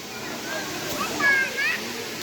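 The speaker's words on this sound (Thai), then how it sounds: "ก็เป็นน้ำตกที่ใหญ่นะครับ" Constant rushing roar of a waterfall, with faint distant voices and a couple of thin high calls over the water noise.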